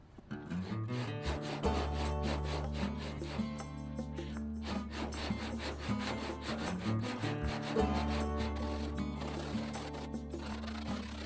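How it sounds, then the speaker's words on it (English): Body filler being sanded on the hood of an F100 truck, producing a steady, close rasping rub with a droning tonal hum running underneath throughout. "So I just started filling and then sanding them."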